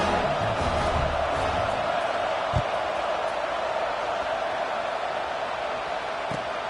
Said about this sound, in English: this crowd is feeling themselves after that